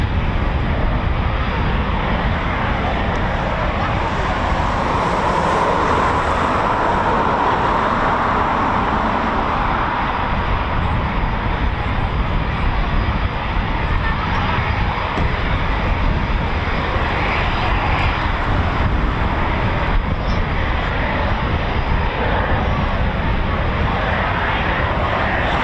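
A Eurofighter Typhoon FGR4 jet at RAF Coningsby, QRA station, produces a constant, heavy broadband roar that stays loud and steady for the whole stretch, with no letup.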